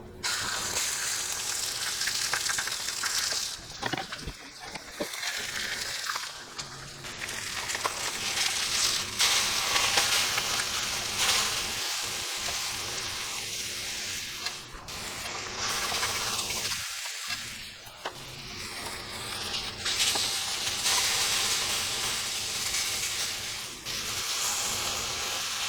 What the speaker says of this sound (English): we're going to start sauteing mushrooms